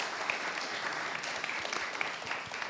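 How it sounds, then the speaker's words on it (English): An audience at a panel forum on AI in teaching and research claps for the panelists, a dense, even applause that holds steady throughout and is heard alone, with no voices over it. "let's give a round of applause to our panelists"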